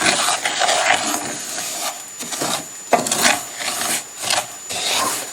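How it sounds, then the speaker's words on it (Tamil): Couscous being stirred as it roasts dry in a pan over low flame, a continuous scraping, rasping rustle with short gaps between strokes, close and fairly steady. "கைவிடாமல் இதை கிண்டி கொண்டு இருக்கணும், இல்லை அடியில் அடிப்பிடிச்சிடும்."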